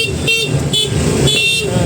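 A car horn honks in a few short blasts at New Year's midnight over the steady hum of an idling engine, close by and loud.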